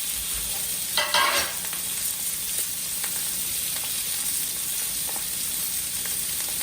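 Salmon fillets sear skin-side down in hot oil in a pan, giving a steady, close sizzling hiss throughout. A louder burst of crackling rises near the start, and a few faint scrapes follow. No one speaks.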